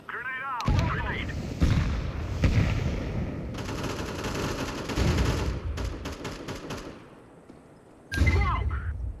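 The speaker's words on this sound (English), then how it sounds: "Grenade out." Grenade explosions and gunfire in a video game shooter, a series of loud booms and rapid shots with rumbling tails, then a quieter stretch before another burst, with voices under the action.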